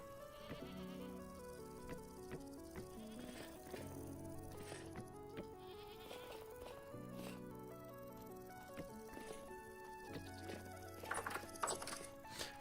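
Goats in a video game give repeated bleats over faint game music and background sound, with no talking.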